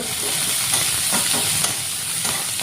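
Cumin seeds and garlic crackle in hot oil, a steady close sizzle with faint scraping of a stirring spoon, no voices, while cooking a fish curry with dudh kochu.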